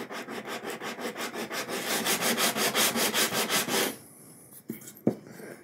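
Rhythmic back-and-forth sanding of a guitar fretboard end with a 10 inch radius block, about a dozen even rasping strokes close up, then a few light taps and handling noises.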